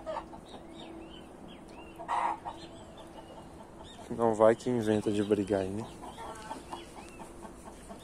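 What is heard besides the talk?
roosters and hens clucking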